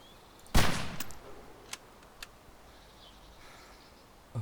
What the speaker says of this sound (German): Ich schieße mal.